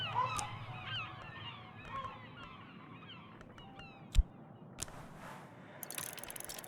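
Seagulls calling at a beach in the video game Book of Hours, a cluster of harsh squawking cries fading over the first few seconds, followed by sparse clicks and mechanical ticks.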